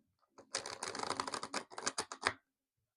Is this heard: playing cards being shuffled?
yes